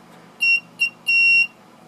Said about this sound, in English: And now you can see it's beeping.